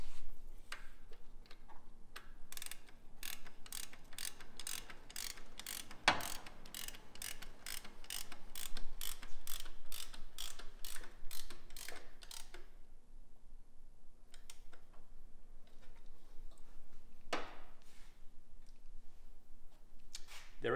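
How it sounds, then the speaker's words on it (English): A hand ratchet tightening a bolt on an engine during a budget EF K swap, clicking in a steady quick run of evenly spaced ticks, then a few scattered clicks after a pause, close and clear in a quiet space. "Let's tighten up the bolt and see if it stays that way."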